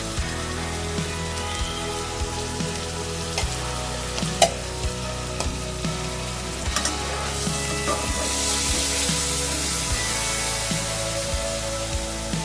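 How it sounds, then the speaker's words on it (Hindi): Beef liver masala with whole coriander and garam masala frying in a pan over low heat; an even, steady sizzle throughout with occasional stirring clicks, close and alone. "इसको अब हल्की सी आंच पर भूनना शुरू कर देंगे।"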